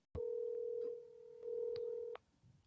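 A telephone keypad sends dialing tones: a long, steady, loud tone, a brief dip, then a second sustained tone ending abruptly, followed by quiet background.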